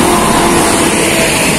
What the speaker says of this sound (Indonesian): Ini banyak sekali bus pariwisata ini yang melintas.